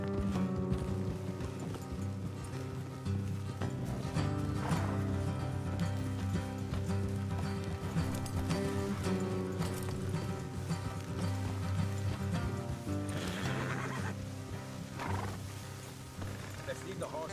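Horse hooves clop steadily on a path under a dense soundtrack in the video game Red Dead Redemption 2, with an occasional snort or neigh mixed into the busy background.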